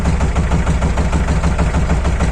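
A Shifeng 240 mini tractor engine idles roughly at about 800 rpm, loud and close, with a steady fast uneven knocking pulse throughout.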